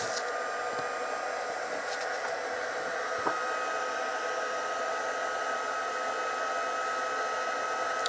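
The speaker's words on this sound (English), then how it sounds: "I'm going to stick on my heat gun now" A handheld heat gun warms up for card embossing with a steady, even blowing whir that holds at one level throughout, moderately loud and close, with no talking.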